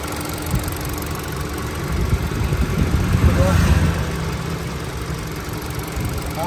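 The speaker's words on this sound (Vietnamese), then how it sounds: "cho các bác thấy máy nổ êm thế nào" A 2018 Hyundai Accent 1.4 with automatic transmission idles with a steady, low engine hum and a faint, even rumble throughout. The sound swells slightly in the middle and carries no spoken voices.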